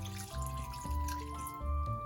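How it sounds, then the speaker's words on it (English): A cup of water pours into a pot of beef stew, a brief close splashing stream with shifting gurgles and drips. "So make sure you pour a cup of water so you can kind of like hydrate in."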